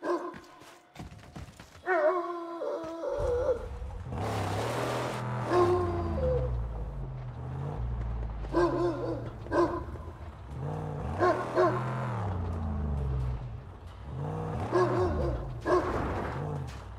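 A dog in the Mad Max video game barks and growls in repeated bursts across the scene, loud and close, mixed with engine and game sounds.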